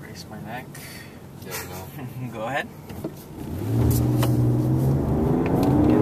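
A 2012 Toyota RAV4 on a test drive, pushed to accelerate and then braked hard to a full stop: road and engine noise swells into a steady, rising rumble, with people talking inside the car.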